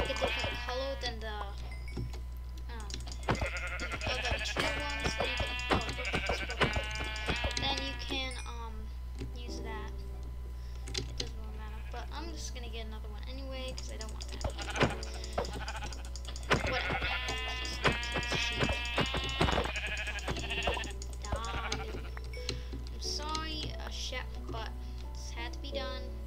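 Sheep bleat in Minecraft survival gameplay, two bursts of wavering game bleats under a player's steady talking, with faint clicks in between.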